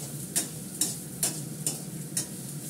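Potato and onion fry in a little white oil over high heat. A close, steady sizzle is broken by five evenly spaced sharp scrapes of a spatula stirring the pan, and no voices are heard.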